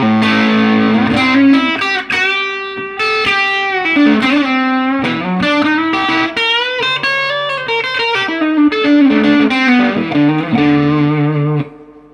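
A Fender Deluxe Thinline Telecaster electric guitar with N3 noiseless pickups plays through overdrive, a continuous run of distorted chords and notes with effects-laden sustain, loud and upfront with no talking.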